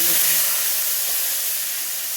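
Loud, steady sizzling hiss of a spice mixture frying in hot oil, close up and continuous.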